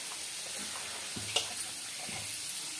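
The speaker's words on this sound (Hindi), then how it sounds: "अब उधर ये फ्राई हो रहा है" Chili dish frying in a pan, a steady soft sizzle with faint crackles and a couple of small clinks, close and low in level.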